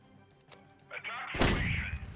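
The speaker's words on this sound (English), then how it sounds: "Holy shit, here comes the artillery." Artillery fire in the video game Home Wars: faint pops at first, then a loud, heavy booming blast with a long rumbling tail, close and dominant.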